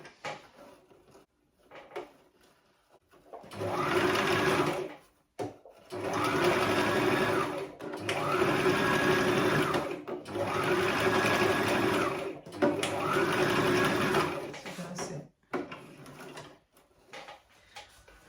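A sewing machine stitches a tulle mesh fabric turban in four sustained whirring runs of about two seconds each, separated by brief pauses with small clicks and handling noises.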